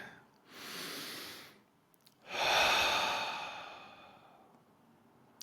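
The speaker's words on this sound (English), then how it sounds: "Take a deep breath with me." A person takes a slow, deep breath, a soft inhale followed by a longer, louder audible exhale, close up and with no talking.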